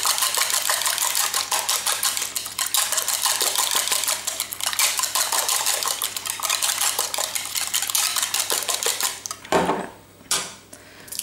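A whisk or spoon scrapes and clatters steadily against a bowl while blueberry tart ingredients are mixed, a dense continuous rattle for most of the stretch before easing into a few separate knocks near the end.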